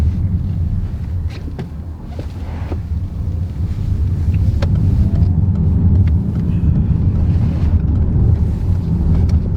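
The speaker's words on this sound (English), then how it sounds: "first thing I've noticed, a bit of tyre noise." Steady low road roar inside a moving Citroen C5 X plug-in hybrid, a constant rumble of tyres on tarmac with some wind noise, no voices.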